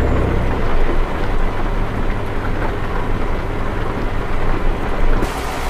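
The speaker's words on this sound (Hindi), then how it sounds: "हालांकि बारिश हो रही है" Rain pours down in Euro Truck Simulator 2 while a Mack Anthem 70 Sleeper truck with a 505 hp engine drives along, a dense, steady wash of hiss over a continuous low rumble, with no voices.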